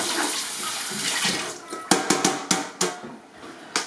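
Tap water splashes while a cutting board is rinsed after filleting flathead, a continuous running gush followed by several sharp knocks and scrubbing thumps of the board being handled close by.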